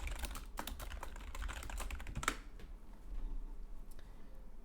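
Rapid keystrokes on a computer keyboard while code is typed, a dense burst of clicks for about two seconds followed by a few sparse, softer taps, close and with no voices.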